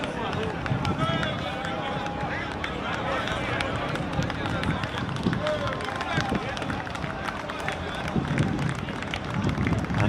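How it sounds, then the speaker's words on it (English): Spectators at a Twenty20 cricket match in New York applaud the Jamaican team leaving the field, a steady patter of clapping from a crowd with a commentator's voice running over it throughout. "a spirited round of applause going up for the Jamaicans as they come off the field"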